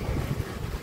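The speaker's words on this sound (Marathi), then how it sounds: "पण आज वारा आहे त्याच्यामुळे पूर्ण वैताग आला आहे." Steady wind rushes and rumbles across an open stretch of water during a fishing outing, a continuous low buffeting with no voices.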